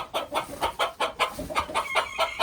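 Chickens cluck in a steady, rapid series of short calls, close by and fairly loud.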